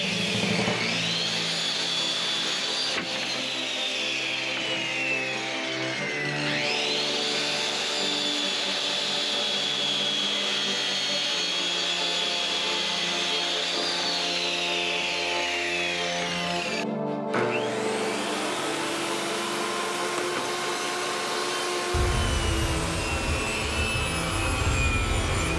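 A power tool runs off a Sungoldpower inverter charger, giving a loud, steady motor whine whose pitch sags and recovers under load, cuts out briefly, then restarts with a harsher, rougher tone near the end.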